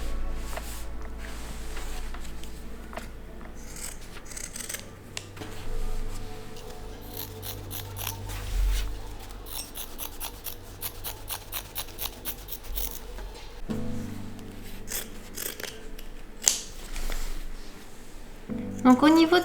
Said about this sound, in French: Donc là on coupe tout le surplus de tissu.